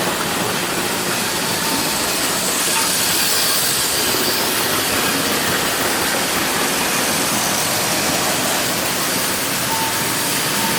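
Louis Roussy LR model passenger express trains, three sets including the Super Rapide, running together on track with a steady, dense rattling clatter that stays loud and continuous throughout, with no talking.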